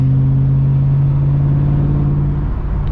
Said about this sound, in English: That's the Cobra right now, all motor NA with the 410 gears.